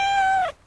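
A cat gives a single drawn-out meow in a Meow Mix cat food commercial, loud and close, ending abruptly into near silence.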